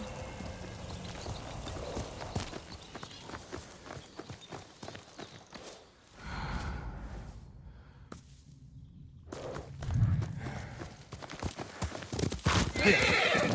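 A horse in the video game Ghost of Tsushima, steady clip-clop of hooves walking close by, broken by a whinnying neigh and snorting breaths.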